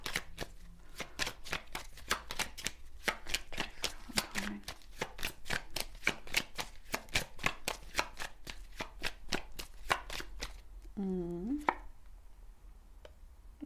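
Tarot cards being shuffled by hand: a rapid series of crisp riffling and slapping taps, close and fairly quiet, with a brief higher scrape near the end.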